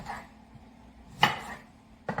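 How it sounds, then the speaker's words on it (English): Knife slicing through pieces of lemon on a cutting board, a soft scrape followed by two sharp chopping knocks spaced apart, close and fairly quiet. "I'm just going to slice some pieces of lemon"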